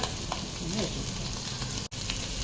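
Fish roe frying in a pan as raw coconut oil is poured in, a close, steady hiss of sizzling fat with a brief dip near the end, with no one speaking over it.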